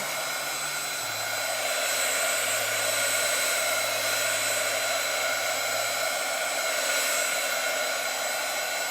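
A blow dryer running continuously to dry thin coats of layered paint on a craft block, a loud steady whooshing roar with a low motor hum close by, no talking.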